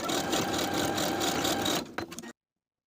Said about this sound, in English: Now I'm going to sew together with a zigzag stitch.